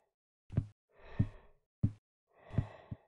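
Someone breathes heavily in the horror game I'm on Observation Duty 3, four slow, close breaths alternating short sharp intakes with longer airy sighing exhales, quiet and isolated.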